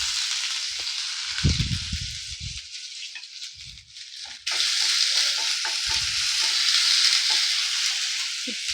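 Ginger and green chili paste hits hot oil with panch phoron five-spice while making Bengali samosa filling, a loud steady close sizzle with stirring scrapes, then a fresh burst of frying that holds to the end.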